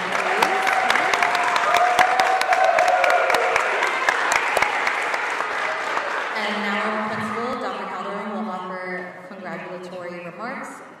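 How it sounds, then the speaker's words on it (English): Audience applause for honor society members at an induction ceremony, brisk clapping from a crowd that thins and fades in the latter half as voices and talk take over near the end. "give a round of applause to all of our members"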